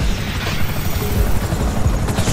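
FIB helicopters in Grand Theft Auto 5 give a dense, loud rotor rumble mixed with mechanical clatter and low booming, continuous and close, with no talking.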